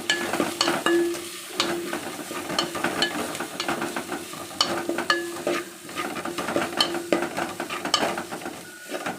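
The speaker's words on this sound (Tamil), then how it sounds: "அதோட அரைச்ச மசாலாவையும் போட்டு நல்லா வதக்கிக்கிடுவோம்." Curry leaves and ground masala sautéing in a pan for a chicken gravy: a steady, close sizzle with repeated scraping stirs of a spoon against the pan, and no talk.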